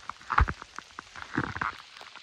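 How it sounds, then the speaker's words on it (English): Hail falls hard outdoors during a mountain elk hunt, a dense patter of icy pellets striking nearby surfaces in irregular bursts. "So, well, it's hailing."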